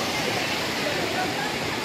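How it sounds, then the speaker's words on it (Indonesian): Waterfall on the Bebatu river at Tawangmangu, a steady broadband roar of falling water filling the whole stretch, loud and continuous with no break. "Nah, itu adalah air terjunnya guys ya"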